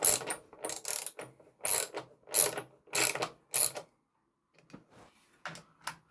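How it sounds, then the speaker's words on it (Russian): A ratchet wrench clicks close up in six quick bursts of sharp, rattling ticks, then falls quiet with a few faint, sparse clicks at the end. "Классная вещь, трещотка."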